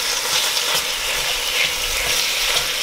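Ground beef and ground sausage browning in a pan for lasagna, a loud, dense, continuous sizzle and crackle of frying meat, close up with faint scraping and no voices.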